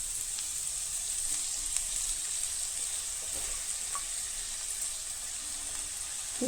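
Spinach frying in a pan with fried onion and tomato, a steady close hiss and crackle of sizzling oil with faint occasional stirring clicks, no talk.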